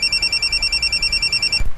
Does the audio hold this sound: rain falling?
no